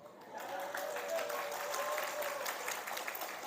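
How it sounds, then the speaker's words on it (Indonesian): Modest applause from a small part of an audience at a religious lecture, a few people clapping steadily for several seconds at moderate distance, with a faint voice in the background. "Tepuk tangan hanya beberapa orang saja."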